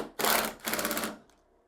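A screw is driven into the frame of a CNC machine, giving two short, close bursts of buzzing power-driver whir, the second slightly longer, then quiet.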